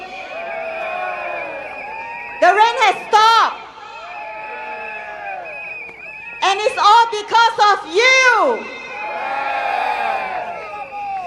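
At an outdoor Singapore Democratic Party campaign rally, a crowd breaks into two loud bursts of shouting and cheering between a man's amplified speech, his voice carrying over a steady background murmur.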